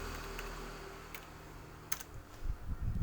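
Someone types on a computer keyboard, a few sparse, quiet key taps spread apart over faint background hum, with louder rustling handling noise at the end.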